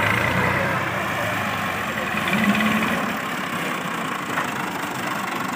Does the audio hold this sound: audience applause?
no